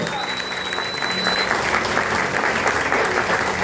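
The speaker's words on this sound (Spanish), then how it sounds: "Yo le diera un aplauso al Señor por eso" Church congregation at a Spanish-language worship service bursts into sustained applause, a thick, even roar of many hands clapping in a large room that continues throughout.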